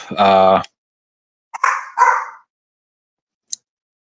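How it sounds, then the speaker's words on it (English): A dog barks close by, a long harmonic bark followed by two shorter yelping bursts and a brief final sound, with silence between. "My dog's barking."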